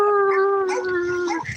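A dog howls in a park, one sustained tonal howl that wavers and fades after about a second and a half, with people's voices overlapping it.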